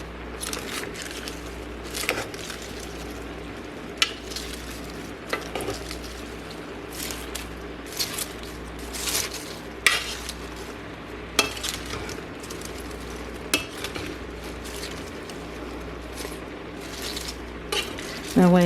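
Cabbage and spicy sausage, with shrimp, cooking down in a pot are stirred around from the bottom to the top, with a steady low sizzle and repeated close metallic scrapes and clinks of a utensil against the pot.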